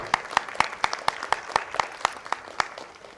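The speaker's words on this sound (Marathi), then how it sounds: "एकदा तुम्ही स्वतःसाठीच टाळ्या वाजवा." Sparse applause from an audience at a children's drama event at a film institute in Pune: about a dozen separate, sharp claps at a steady pace, moderately close, with no talking.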